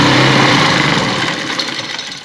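A sewing machine stitching a kadhai embroidered neckline, giving a loud continuous motor whir that hums steadily and then fades slightly toward the end.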